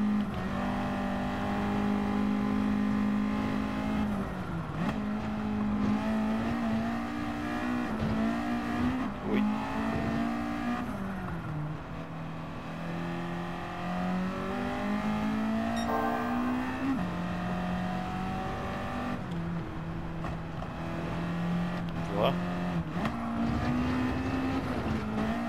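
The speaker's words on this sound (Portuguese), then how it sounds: "vem o ronco do carro, né? O carro a reduzir." Honda Integra Type R DC2 engine in Gran Turismo 7 on the Nordschleife, heard from a hood camera: a loud, steady, buzzing engine note that rises and falls as the car accelerates and downshifts, continuous for the whole stretch with no talk.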